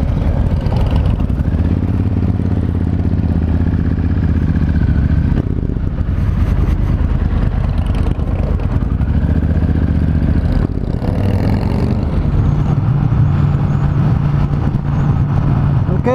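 Motorcycles riding together along a highway, a loud continuous engine drone with shifting low tones and wind rumble throughout, rising and falling as the group travels.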